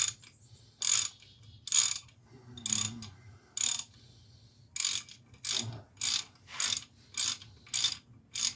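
A ratchet driving heavy-duty thin-wall sockets on a wheel bearing replacement, about a dozen crisp clicking bursts at a steady rhythm, close and fairly loud over a low hum, with no speech.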